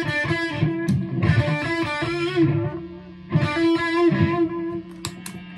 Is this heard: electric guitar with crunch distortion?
yes